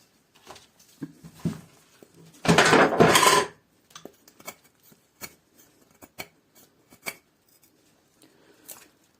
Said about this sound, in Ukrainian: Можемо використовувати ніжку надфіля як мусат для намусачування.